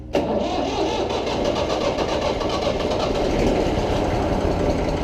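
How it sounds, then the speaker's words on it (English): Massey Ferguson 35X tractor engine cranks and catches near the start, then settles into a loud, steady diesel chug that runs on without a break, with no talking. "Clutch in, gear, middle, turn the key."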